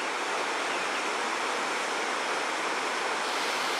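Waterfall in the mountains of Tinoc, Ifugao, a constant broadband roar of falling water, loud and unbroken with no other sounds.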